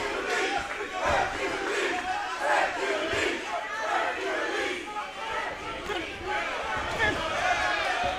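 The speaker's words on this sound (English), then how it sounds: "The crowd comes to life for Hercules" A boxing crowd at a Baytown fight night roars and shouts in rising waves, loud and close, with excited yells and chatter mixed through the sustained noise.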